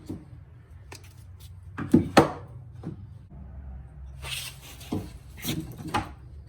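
Drawer slides tried against one end of a workbench drawer during a fit test: scattered wooden knocks and clunks with a couple of sharper bangs, then a sliding, scraping run, fairly close in a quiet shop.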